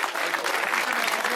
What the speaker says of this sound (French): ces deux vainqueurs, on peut les applaudir bien fort, ces deux champions de Bretagne